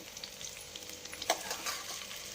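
Onions, cashews, cinnamon and cloves fry in a little oil in a pan, a steady close sizzle with faint scraping stirs and a brief louder crackle partway through, no voices.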